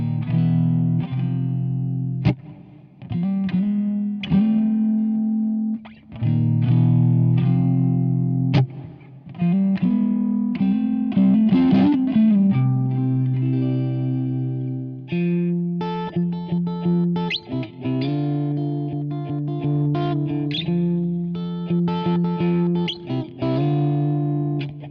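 An electric guitar plays sustained chords and riffs through effects, with a driven, slightly distorted and shimmering tone, heard alone without talking.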